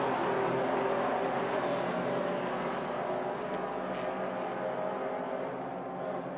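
Vintage race cars, a Datsun 2000 and a Lotus, racing at Indianapolis, heard as a steady, dense engine roar from a distance that holds constant throughout with no voices.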